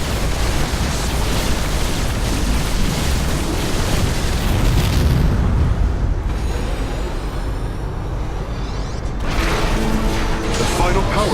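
A power core explodes in StarCraft 2: Legacy of the Void, a loud, sustained roaring rumble with deep booming. The roar thins out briefly midway, then surges back to full force.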